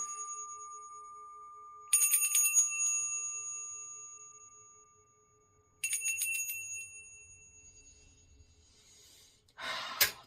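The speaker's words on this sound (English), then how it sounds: "And a bell ding." A bell rings twice with clear sustained tones, each strike ringing out and fading beside a steady hum, with a final brief rustle at the end; no one speaks.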